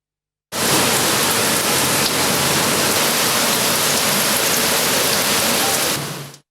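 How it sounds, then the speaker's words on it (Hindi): Heavy monsoon downpour in Lahore, a dense, loud, unbroken roar of rain hitting surfaces that fades in sharply and holds steady for several seconds before cutting off, with no voices. "लाहौर शहर में सुबह सवेरे से मूसलाधार बारिश का सिलसिला वक्फे से जारी है।"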